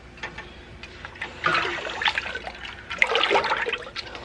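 Water pours into a soup pot while making ham and bean soup, a splashing, gurgling stream in short bursts that builds over a few seconds, fairly close and alone.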